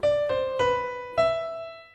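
Piano playing the first four melody notes of "Bella Ciao": four clear, separate single notes struck close up at a moderate pace, each ringing briefly, the last sustaining and fading, with no talking.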